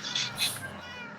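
A cat in the video game Minecraft meows twice in quick succession, fairly close and clear, with a soft trailing tone afterward.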